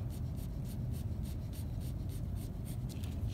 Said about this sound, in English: So now I'm just going to gently sketch the shape of that.